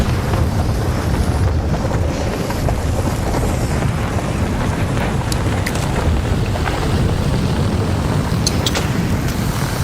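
Steady wind roars and rushes across an outdoor map in the ARC Raiders video game, a constant loud broadband gust with faint higher whistles and no voices.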